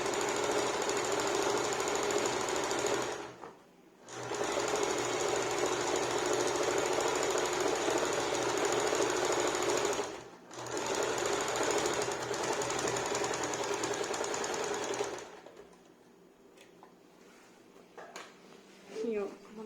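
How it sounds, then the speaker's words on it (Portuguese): An industrial straight-stitch sewing machine stitches a small fabric multipurpose bag or bread bag. It makes a loud, steady mechanical rattle that runs in three long bursts, separated by brief stops, then falls to a quiet hum. "A minha máquina é reta industrial, não tem ponto decorativo."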